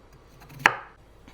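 A single sharp knife chop through a potato onto a cutting board, close and crisp, standing alone against a quiet background.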